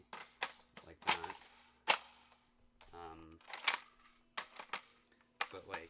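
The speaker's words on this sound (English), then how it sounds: "I find myself actually loading it like an AK, like that." Toy blaster being handled and a magazine loaded in AK style, a run of sharp plastic clicks and clacks in bursts, close by, mixed with someone talking.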